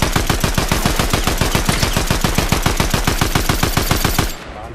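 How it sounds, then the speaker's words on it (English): Rapid automatic gunfire in Fortnite, a steady loud burst of evenly spaced shots running for about four seconds before cutting off abruptly. "Keep shooting, keep shooting."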